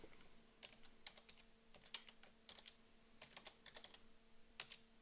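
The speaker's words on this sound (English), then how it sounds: "and now typing in my new name." Typing on a computer keyboard while renaming an object in 3ds Max: quick, close clicky keystrokes in irregular bursts over a faint steady hum, no talking.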